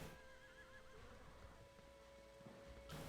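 A horse in the video game Torchlight 2 lets out a steady, fairly faint whinny over a constant hum of game background, with a brief louder burst right at the end.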